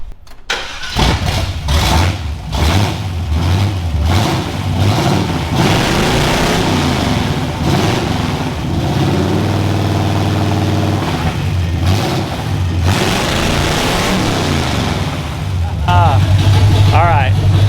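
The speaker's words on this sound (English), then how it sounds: "let's see what open headered sounds like in the old Nova" An old Chevy Nova running on open headers starts and settles into a loud, rough, throbbing idle with a few blips of revving, close up and steady throughout, with people talking over it.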